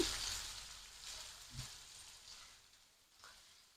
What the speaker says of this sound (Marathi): कांदा आपल्याला व्यवस्थित परतवून घ्यायचा आहे